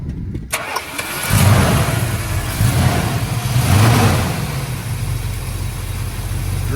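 A 1971 Dodge Charger R/T with a 440 Magnum V8 cranks and catches after a short pause, then settles into a loud, close, steady rumbling idle with a couple of swells in revs, no voices over it.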